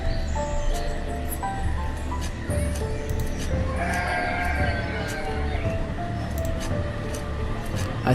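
Sheep bleating in the video game Banished, a few wavering bleats heard over dense, busy in-game ambience with clinks and background bustle.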